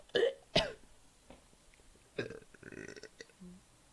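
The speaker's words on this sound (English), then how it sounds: "I was having a burp and my dinner just came out" Two loud, short burps come close to the mic, followed by fainter throat and mouth noises and a few softer sounds.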